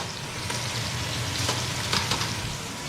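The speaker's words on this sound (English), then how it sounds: "So now I can get another sear on that side." Beef for pot roast searing in a hot pan, a steady close sizzle and crackle with small pops, and no voices.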